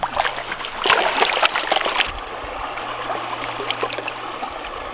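Water sloshes and trickles as gold-bearing dirt is washed, with splashy surges early and a gentler steady trickle after, close and moderately loud with no talk.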